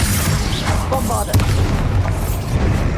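Bombarda blasting spells exploding in Hogwarts Legacy, loud deep booms and rumbling bursts filling the whole stretch, with voices and game effects layered over them.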